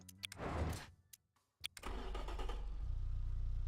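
A cheap, quick-to-build engine in a car-building video game, tuned until it knocks, cranks over with a short burst, drops to near silence, then catches and settles into a steady low rumbling idle, with no talking.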